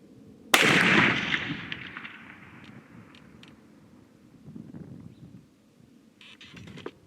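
A single loud gunshot from a Hankins custom smokeless powder muzzleloader firing a 230 grain bullet cracks sharply near the start, its boom rolling off into a fading outdoor echo with faint rustling afterward.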